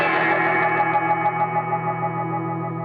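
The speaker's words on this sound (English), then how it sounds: "it creates almost like a pitch vibrato sound. Or a bit like a weird kind of Leslie type sound." Gamechanger Audio Light Pedal on guitar with the dry signal off, its modulation sped up into a warbling pitch vibrato, a sustained chord with wobbling, Leslie-like shimmer, steady and close, no talk.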